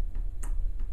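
A trim tab solenoid valve on a boat's hydraulic power unit clicks open, giving a few soft, short clicks with one sharper snap in the middle, heard close over a low steady hum.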